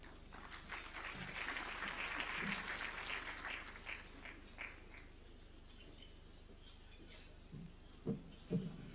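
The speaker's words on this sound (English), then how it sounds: "A round of applause again to Honorable Mugatana." Faint applause rises for a speaker at a gathering at the Safari Park Hotel in Kenya, then fades into a quiet hall with a few scattered claps and small knocks toward the end.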